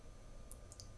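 A computer mouse double-click: two faint, quick clicks close together over a low, steady hum, with no voice.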